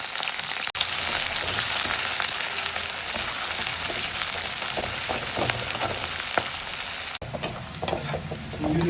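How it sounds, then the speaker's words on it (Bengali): Sliced onion frying in hot oil in a kadai, a steady, dense sizzle and crackle that holds at an even level throughout, with no voices over it. "এবার কড়াইতে তেল গরম করে পেঁয়াজের বেরেস্তা করে নেবো"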